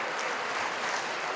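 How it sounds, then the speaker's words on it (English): Audience at a Tamil cultural convention applauding a speech, a brief, continuous burst of dense clapping from a large crowd. "give yourself a big round of applause"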